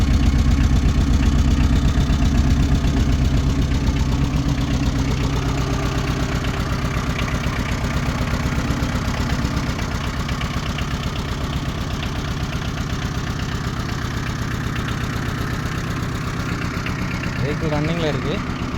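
A 2008 Tata Ace mini truck engine idles steadily and loudly throughout, a continuous low rumble with slight knocking, and a brief voice-like sound near the end.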